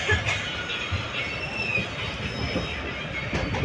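A passenger train running from Karur to Tirunelveli rumbles along the rails with rhythmic clacking of wheels and a faint squeal, heard from inside the carriage, steady and moderately loud.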